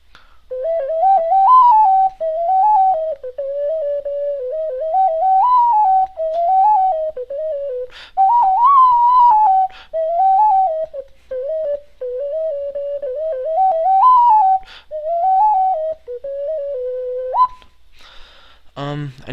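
A Songbird 12-hole straw-fired ocarina plays a lively jig, a clear, pure, breathy melody of quick notes near and loud, with a brief clatter at the end.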